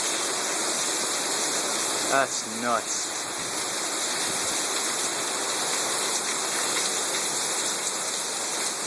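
Heavy thunderstorm rain pours down steadily in Brookhaven, a dense, even hiss filling the whole span, with a brief exclamation from a nearby voice partway through.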